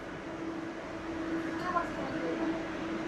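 A train runs on a rail line in Malaysia, giving a steady, even rumble and hum that fills the whole stretch without breaks.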